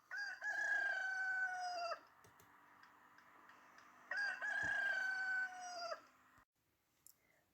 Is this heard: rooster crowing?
yes